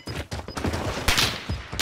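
Dense, continuous gunfire in a shooter video game, overlapping shots forming a loud, close barrage with no clear gaps.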